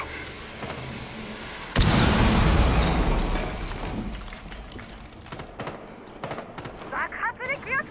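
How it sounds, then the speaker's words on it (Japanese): Special breaching explosive detonating in Rainbow Six Siege at the Clubhouse map: a sudden loud blast with a crackling, sizzling tail, followed by scattered gunshots and debris clatter, with game voice chatter around it. "爆発に気をつけろ。"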